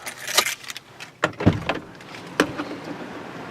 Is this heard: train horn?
no